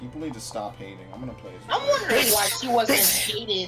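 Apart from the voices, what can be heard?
sneeze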